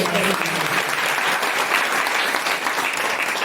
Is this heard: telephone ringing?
no